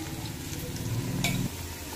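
A pan of lightly browned fried onions being stirred with added ingredients, a steady close scraping of the spoon over a soft sizzle, ending with a brief clink.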